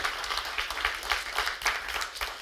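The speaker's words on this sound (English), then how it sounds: "Can we get another round of applause for our last panel discussion?" An audience applauds after a panel discussion, a dense steady round of many hands clapping at close range throughout.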